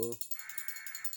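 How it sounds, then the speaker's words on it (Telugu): A crow gives a single harsh, drawn-out caw close by, cut into just after a short burst of voice at the start. "చూసారా కాకి కూడా అరుస్తుంది చెప్తుంటే"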